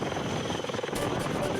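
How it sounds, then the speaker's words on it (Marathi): A helicopter flies over a flood-hit area in Maharashtra, its rotor thumping loud and steady throughout. "हवाई दलाकडून हेलिकॉप्टर्सच्या मदतीने पूरग्रस्त भागांचं सर्वेक्षण"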